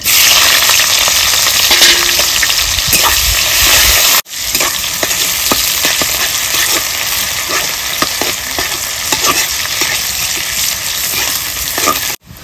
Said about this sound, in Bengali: ফোড়নে দিয়ে দেবো গোটা গরম মশলা, একটা শুকনো লঙ্কা, গোটা জিরে। কুচিয়ে রাখা পেঁয়াজ